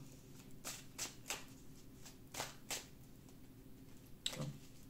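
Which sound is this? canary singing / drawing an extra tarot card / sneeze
drawing an extra tarot card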